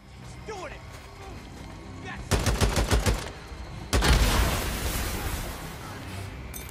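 Rapid bursts of gunfire from the zombie survival video game Days Gone, a dense volley of repeated shots followed by a louder, sustained barrage, with excited players talking over the action.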